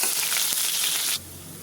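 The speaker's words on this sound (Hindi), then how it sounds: "1 कटा हुआ प्याज, इनको हल्का सा ब्राउन भून लेंगे।" Chopped onion, a bay leaf and two dry red chillies sizzling in hot oil for a drumstick curry, a loud close steady hiss that drops abruptly to a quieter sizzle near the end.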